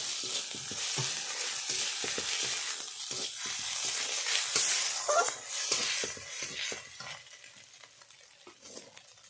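Cumin paste and ginger paste being fried and stirred in a pan for a river rui fish curry: a steady close sizzle broken by frequent spatula scrapes, fading slightly toward the end.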